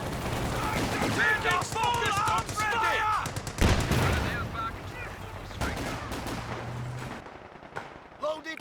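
Company of Heroes 2 video game gunfire in a 2v2 match: dense bursts of rifle and machine-gun fire with a low rumble, loud and continuous, a commentator's voice talking over the battle.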